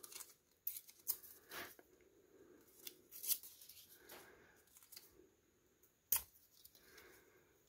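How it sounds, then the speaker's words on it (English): Red and black paper slices are torn apart by hand into a small pile. Close, quiet ripping and rustling comes in short separate bursts with pauses between, and nobody talks. "you're going to want to rip them up just like this and create a little pile"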